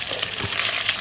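Onions and tomatoes sizzle and fry in a pan for pork sinigang, a steady close crackle with a brief stir partway through.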